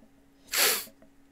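A single short, sharp sneeze bursts out near a tabletop game, a brief breathy explosion that fades quickly in a quiet room.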